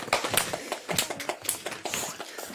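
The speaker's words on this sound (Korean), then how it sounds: "우리 모든 영광과 감사의 박수를 하나님께 올려드립니다" A worship-service congregation gives short, sparse applause, with scattered close claps and taps heard alone for a couple of seconds.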